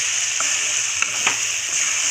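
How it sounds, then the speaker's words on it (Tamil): Chicken and green chilies sauté in a hot pan for a Tamil-style chicken curry, a steady close sizzle with a few soft stirring scrapes, no voices. "நல்லா வதக்கி விட்டுக்கலாம்."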